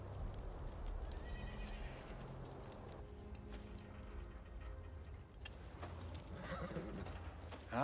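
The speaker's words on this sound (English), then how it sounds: "Finley, get the horses tied up." Horses clop and shuffle close by, with a brief whinny and some jingling tack in the background.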